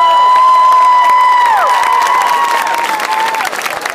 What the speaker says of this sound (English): Let's give our sound guy a round of applause